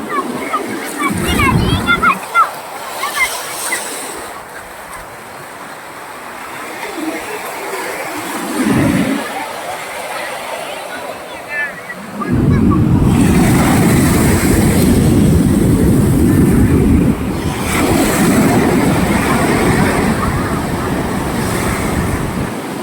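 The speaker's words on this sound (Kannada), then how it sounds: "ತುಂಬ ಭರ್ಜರಿಯಾಗಿ ಅಲೆಗಳು ಬರ್ತವೆ" Ocean waves surge and crash onto RK Beach, Visakhapatnam, quieter swells at first, then a loud sustained roar of surf, with a voice heard in between.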